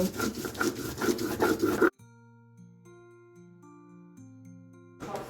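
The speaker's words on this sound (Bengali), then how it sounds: "মা এখন বেটে নিচ্ছে সর্ষে পোস্ত" Mustard and poppy seeds are ground into paste by hand, giving a close, rhythmic rubbing and grating for about two seconds before a melodic tune takes over.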